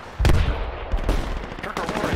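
Gunfire in the military shooter game Project Reality: several sharp, loud shots at irregular intervals over low rumbling battlefield ambience, with no talk during the burst.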